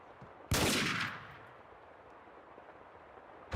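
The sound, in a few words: gunfire in the video game Max Payne 2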